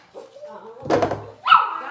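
Dogs bark in a home kitchen during holiday meal preparation, a burst of harmonic barks near the middle followed by a higher yelp, with faint background sounds around them.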